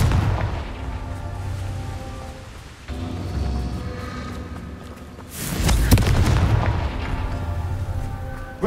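Explosive Confringo spell blasts in Hogwarts Legacy, two heavy booming bursts with a crackling tail, the second louder and closer, over a steady game background with no voices.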